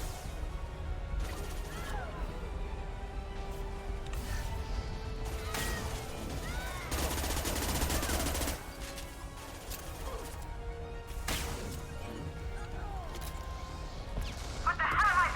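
Gunfire in Mass Effect 2 combat, bursts of shots and crashing impacts scattered through a busy battle soundscape, one dense loud stretch in the middle, with occasional voices.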